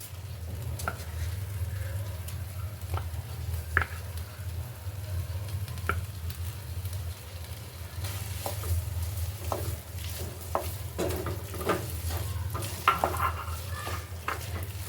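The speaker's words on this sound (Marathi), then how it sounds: "सर्व मिश्रण व्यवस्थित ढवळायचं आहे" Mashed potato and rice tikki mixture being stirred in a hot pan, giving a continuous low sizzle under repeated scraping and tapping of a spoon against the pan, with no one speaking.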